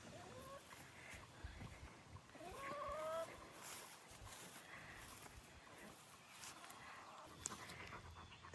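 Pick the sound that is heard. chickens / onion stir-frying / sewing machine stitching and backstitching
chickens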